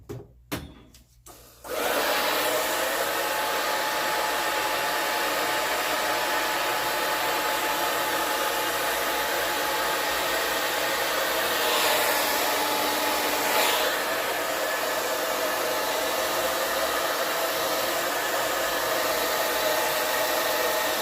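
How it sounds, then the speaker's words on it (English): A blow dryer runs steadily on hair during a pixie-to-quick-weave styling session, a loud continuous whoosh starting after a brief scuffle and holding for about twenty seconds, with no talk over it. "Okay, so we're gonna utilize a blow dryer here."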